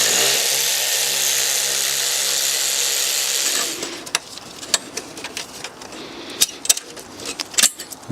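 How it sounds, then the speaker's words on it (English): A Jubilee hose clamp comes off the intake of a BMW M57 diesel engine: a power tool whirs steadily for a few seconds, then a run of sharp metallic clicks and taps follows, close by. "Now it should just be this Jubilee clamp we need to remove."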